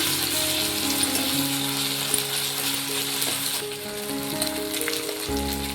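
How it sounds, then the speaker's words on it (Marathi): Crushed ginger and garlic sautéing in hot oil for a Maharashtrian Bhogi vegetable dish, a steady close sizzle with faint crackle, alone without talk. "आलं आणि लसूण ना मी ठेचून घेतलेलं, हे टाकते, थोडंसं परतून घेऊया आपण"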